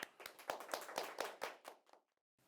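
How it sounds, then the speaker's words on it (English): Small group applause for the winning side of a school debate, a handful of quick, close claps in a brief burst that fades out and then stops. "Please give them a big round of applause."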